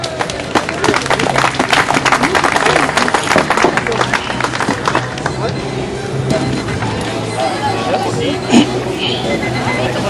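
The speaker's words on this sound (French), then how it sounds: "Et on peut les applaudir." An audience applauds at a French demonstration of stick and cane fighting, a dense steady wash of many hands clapping with crowd murmur throughout, loud and sustained across the whole stretch.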